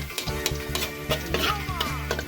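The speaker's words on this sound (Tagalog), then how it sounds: "nasa lutuan ko tayo kung saan muna po yung bawang tapos hanggang mag-brown po siya" Garlic frying in a pan until brown, a steady sizzle broken by repeated stirring scrapes and clicks of a utensil, close and fairly loud with no talking.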